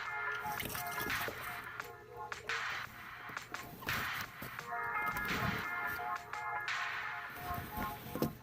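Engine oil drains from a Hyundai Veloster during an oil change, a wet trickling and dripping carried on a steady, busy background noise throughout, with a few sharper clicks and splashes.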